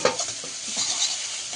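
Egg curry masala is stirred and fried in a pan with a steady bright sizzle and scraping strokes of a spoon, heard up close and alone for a short moment.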